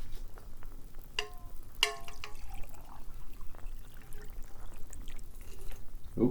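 Hot liquid is poured into a small tincture bottle, giving soft trickling and a few brief clinks of glass, quiet and close, with no talking.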